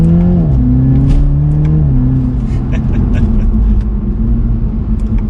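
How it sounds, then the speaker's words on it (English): A 2021 Toyota GR Supra 2.0 downshifting, the engine note dropping in steps under a loud interior rumble, with a few faint crackling exhaust pops on the overrun. "So doing a downshift, hear just a little bit of pops."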